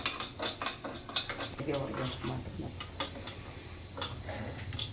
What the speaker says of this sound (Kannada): ಒಂದು ಟೇಬಲ್ ಸ್ಪೂನಷ್ಟು ಅಕ್ಕಿ ಸಣ್ಣ ಉರಿಲಿ ಸ್ವಲ್ಪ ಹುರ್ಕೋಬೇಕು. ಲೋ ಟು ಮೀಡಿಯಮ್ ಫ್ಲೇಮಲ್ಲಿ ಸ್ವಲ್ಪ ಕೆಂಪಗಾಗೋರು ಹುರ್ಕೊಳ್ಳೋಣ.